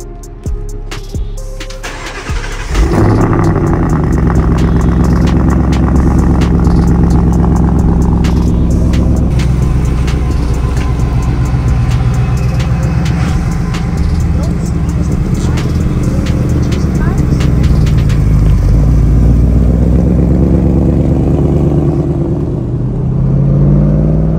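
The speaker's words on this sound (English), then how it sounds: "first start after the blower" A supercharged 2023 Ford Mustang Mach 1 cranks over and catches after a short start-up, then its engine settles into a loud, close idle with repeated revs and blips that run on for many seconds.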